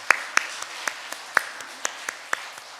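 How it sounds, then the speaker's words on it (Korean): Sparse, uneven hand claps from a small church congregation during a Sunday service, about ten sharp claps spread over a few seconds in a quiet room. "뜨거운 박수 부탁드리겠습니다"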